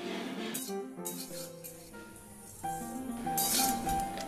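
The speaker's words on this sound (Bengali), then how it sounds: "খই ভাজার সময় একটু কম আছে, ধৈর্য ধরে ভাজতে হবে আর কন্টিনিউ নাড়াচাড়া করতে হবে।" Puffed rice (khoi) roasting in a wok while being stirred continuously, giving a steady dry rattling and scraping hiss with scattered light clinks, close and moderately loud, over some tonal background sound.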